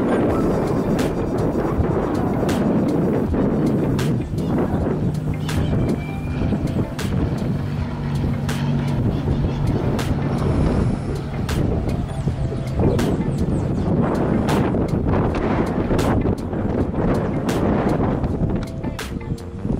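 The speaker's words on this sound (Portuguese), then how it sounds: "gravando para vocês em mais um pouso em dia de vento forte" An airplane landing at Sorocaba airport on a day of strong wind, a continuous loud roar buffeted by gusts and wind noise on the microphone, steady throughout.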